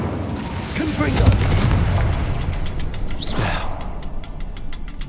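Confringo, an explosive fire spell, goes off in Hogwarts Legacy during a fight with goblins and spiders: a deep rumbling blast with creaking and crackling debris, and a voice speaking over it, followed by a rhythmic series of short, sharp ticks.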